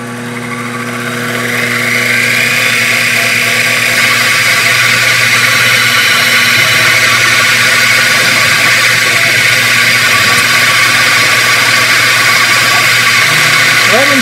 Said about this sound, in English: Spindle noise.